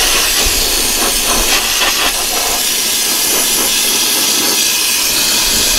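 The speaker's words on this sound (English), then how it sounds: "Let me hit some Woolwax over the top of it and black it out." Woolwax lanolin rustproofing sprayed onto a vehicle frame and spring, a loud, steady aerosol hiss that runs without a break, close up.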